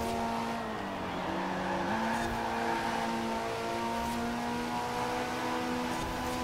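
A BMW driven in the Forza Horizon racing game, its engine holding a steady loud drone with shifting pitch while tires squeal across the whole stretch, no voices over it.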